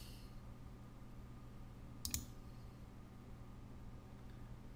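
A single faint computer mouse click sounds midway through a quiet stretch of steady background hiss and hum, with no speech.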